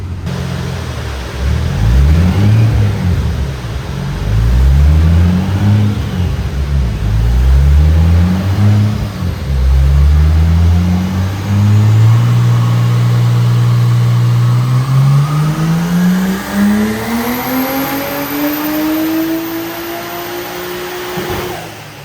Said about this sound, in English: so we'll run it up on the dyno, see what's our power at